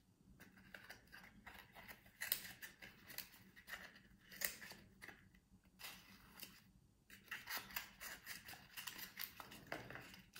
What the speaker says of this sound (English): Cut away the excess paper